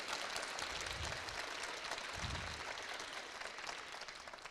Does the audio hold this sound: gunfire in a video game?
no